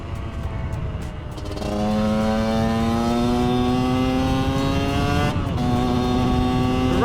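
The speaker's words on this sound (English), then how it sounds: "Right before the power hits, there's a dip because it's a two-stroke." Two-stroke motorcycle engine on a project bike revving up from a low idle into a strong, sustained rising rev with clear harmonic whine, dipping briefly near the end before picking up again; loud and close, no talking.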